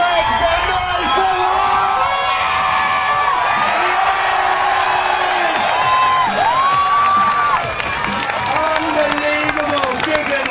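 A loud crowd cheers, whoops and claps for a dirt bike rider, a sustained roar of voices and shouts with high whistles rising throughout.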